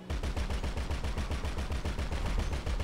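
Rapid automatic gunfire in a French multiplayer military shooter game, a steady loud burst of evenly spaced shots running the whole time with no talk.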